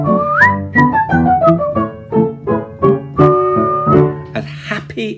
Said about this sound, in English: there's a little tune I want you to whistle